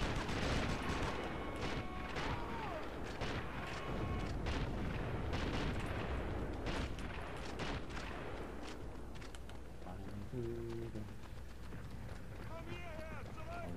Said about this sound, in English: He's shooting. One of them's shooting.